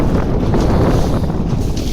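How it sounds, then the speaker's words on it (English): A wind gust buffets the microphone while sailing a small boat, a loud, continuous rushing roar that holds steady throughout. "A bit of breeze coming on now."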